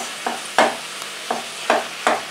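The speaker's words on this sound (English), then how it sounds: "use your wooden spoon to break it up and fry it off at the same time" Mince frying with vegetables in a pan, a wooden spoon scraping and stirring in five sharp strokes over a steady close sizzle.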